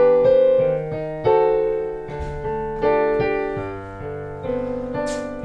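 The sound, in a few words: large keyboard organ played at Edinburgh Organ Studios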